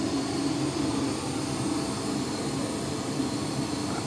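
A jet airliner taxis in toward the gate after landing, its engines giving a steady, fairly loud whine and rumble heard from a distance with no voices.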